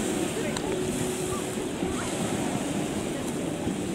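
Sea waves breaking at the shore in Odessa in the evening, a continuous loud surf wash with wind buffeting the microphone, steady throughout without voices.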